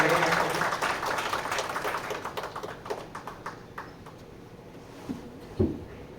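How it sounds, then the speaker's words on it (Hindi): A crowd applauds a singer at a Holi kavi sammelan, a burst of clapping that starts loud and thins into scattered, tapering claps, ending with a few isolated louder hand claps. "एक जोरदार तालियों से उनका अभिवादन करें।"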